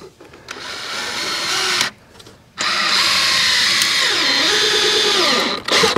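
A power screwdriver drives screws into a wooden batten while insulating a timber house, a loud, close whirring that runs, cuts out briefly, then resumes with rising and falling motor pitch as the screw bites.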